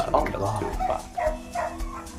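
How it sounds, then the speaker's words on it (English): Several dogs bark repeatedly in a home workshop where custom tufted rugs are made, short uneven barks at moderate distance, heard under and between a person talking. "don't mind these dogs"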